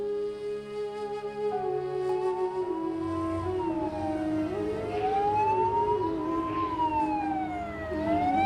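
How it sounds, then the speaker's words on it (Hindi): An ambulance siren wails continuously, rising and falling over steady traffic rumble, loud and fairly close throughout. "क्या बात है रामी, एम्बुलेंस को ऐसे क्यों देख रही हो?"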